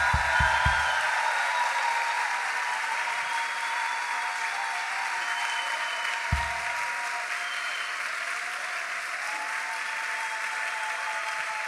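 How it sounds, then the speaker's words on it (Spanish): A congregation applauds steadily during a Sunday church homily, the clapping sustained and fairly dense throughout, with a low hum in the background and no one speaking. "Ese aplauso es para Dios."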